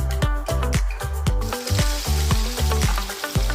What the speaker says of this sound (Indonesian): Kemudian masak ayam hingga matang dan berubah warna menjadi kecoklatan.